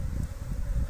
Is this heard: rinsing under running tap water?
no